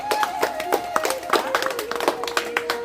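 Students clapping in a round of applause at a school event, sharp uneven claps at close range with a sustained tone and voices running underneath.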